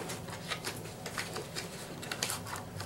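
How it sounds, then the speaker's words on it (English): Child rustling and handling a cardboard Robot Turtles game box under a table, producing faint, irregular crinkly scuffs and taps with no talk. "that rustling noise is my son under the table playing with a box that Robot Turtles came in"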